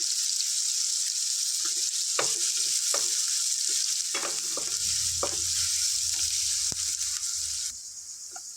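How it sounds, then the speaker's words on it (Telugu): Onions and green chillies fry in a pan for a chicken liver masala curry, a steady loud sizzle throughout with scattered scraping stirs; the frying settles slightly quieter near the end. "ఒక కప్పు ఆనియన్స్ ఒక నాలుగు మిర్చి వేసుకుందాం వీటిని లైట్ గోల్డెన్ బ్రౌన్ వచ్చే వరకు ఫ్రై చేసుకోవాలి"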